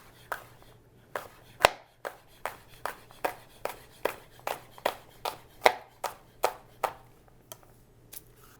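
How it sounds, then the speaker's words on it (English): A knife slices food into little slices on a cutting board, making about twenty close, evenly paced chopping taps with no talking. "Now I am just going to cut these in little slices."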